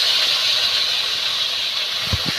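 Bombay duck fish dropped into a hot wok, a steady loud hissing sizzle of oil throughout, with a couple of soft clinks near the end.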